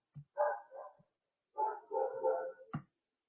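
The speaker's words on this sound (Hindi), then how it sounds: "ये कुत्ता भौंकते भौंकते नहीं थक रहा" A dog barks repeatedly in two short bursts of clustered yaps with a gap between them, fairly close and clear over an otherwise quiet background.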